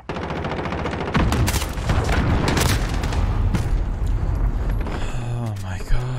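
A cruise missile strike in the Modern Warfare video game, with dense booming blasts and rapid gunfire that stay loud and continuous, ending in a short burst.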